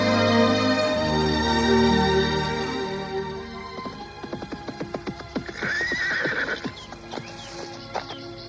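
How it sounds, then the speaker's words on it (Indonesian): A horse whinnies in a long, loud neigh, then its hooves clop in an uneven run of sharp, close steps, staged as a sound effect for a radio drama. "membiarkan kudanya merumput"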